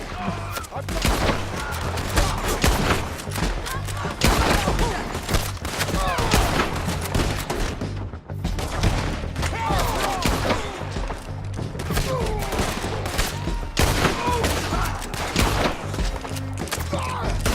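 A sustained gunfight in Red Dead Redemption 2, with dense overlapping shots cracking loudly and continuously across the whole stretch, backed by game rumble and shouting voices.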